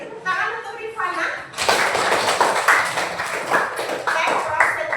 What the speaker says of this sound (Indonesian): tepuk tangan untuk Rifana